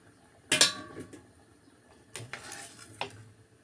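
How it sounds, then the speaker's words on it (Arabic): Boiled potatoes tipped from their cooking water into a strainer, a loud clattering burst of metal and potato at first, then softer scraping, knocks and a brief clink, with no voices. "هخرجه بقى من المية اللي احنا بنسلق فيها، واحطه في مصفى عشان يصفي كل المية"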